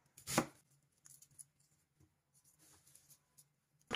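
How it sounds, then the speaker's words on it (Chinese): A knife scores and cuts a sweet potato on a board, a sharp chop followed by sparse quiet taps and scrapes, close and faint with no talk. "红薯切上几刀，再掰开"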